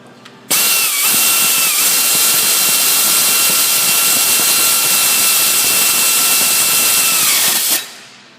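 A power tool whirs as it tightens an alternator bolt on a Ford Taurus 3.0L 12-valve engine, one steady, loud, high-pitched run of about seven seconds that starts abruptly and winds down at the end, with no talking.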